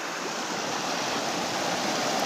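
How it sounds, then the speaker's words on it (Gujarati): Floodwater flowing down from a hill surges in a steady, loud, broadband rush with no pauses. "આ સામેથી જે એ પણ ભાખરમાંથી જ પાણી આવી રહ્યું છે,"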